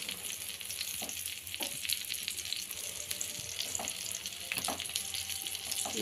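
Burger ingredients frying in a pan, a constant crackling sizzle broken by several scraping strokes of a spatula at irregular intervals, close and moderately loud, with no speech.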